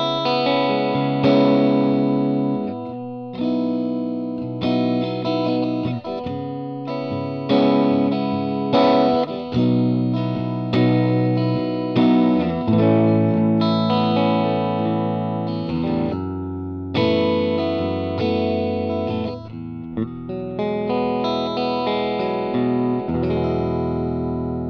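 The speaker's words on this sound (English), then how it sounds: "you put both of these mini switches facing each other, you get just the single coils. You get more of a traditional Telecaster kind of sound." Vox Telecaster Thinline electric guitar on its single coil pickups, in the in-between position, plays a continuous run of strummed chords and picked notes with a bright, slightly driven tone and no talking.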